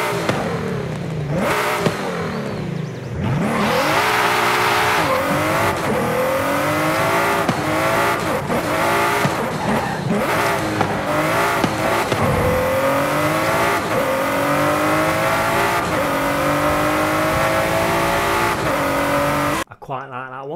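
Ford GT engine in the racing game Forza Horizon 5, loud and close, revving up and down through repeated gear shifts with rising and falling pitch for nearly the whole stretch before cutting off abruptly.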